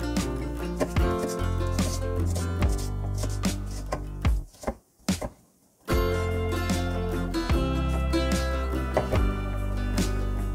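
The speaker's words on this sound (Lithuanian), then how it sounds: "Toliau pjaustom svogūnus ketvirčiais." A knife chops onions into quarters on a board, a run of crisp repeated cuts heard close against a music bed, with a brief lull midway before the chopping resumes.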